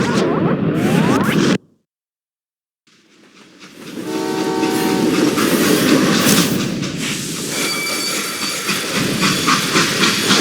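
A steam train in Call of Juarez: Gunslinger rumbles loudly, with a brief drop to silence early on before the rolling clatter returns, joined by a sustained horn or whistle and steady mechanical churn.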